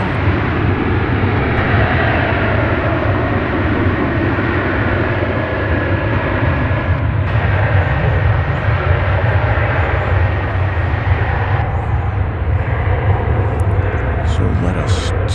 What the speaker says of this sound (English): It's a Cessna 208B Grand Caravan, but I think this one actually carries passengers as opposed to cargo.